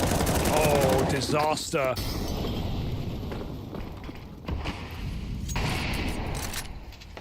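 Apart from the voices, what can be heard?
grenades and gunfire in Counter-Strike video game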